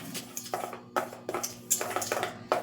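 Drops of vanilla flavor being mixed in a bowl for homemade ice cream premix, heard as a series of irregular clinks and scrapes of a utensil against the bowl, close and fairly quiet.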